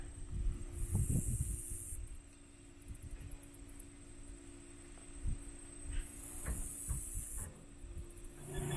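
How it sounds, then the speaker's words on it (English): Air hissing out of the bleeder on a 1964 sprayer pump, in two bright bursts of hiss over a steady mechanical hum, with light knocks and clicks between them. "So there's a bleeder on this pump. So I'm going to let the air out of the pump so it'll take prime"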